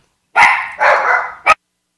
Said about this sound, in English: Oh, let the dog bark.